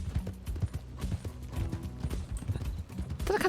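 Horse hooves clip-clopping in the RedM game, rapid irregular thuds of a trotting horse, close and fairly quiet, with a brief louder burst at the end.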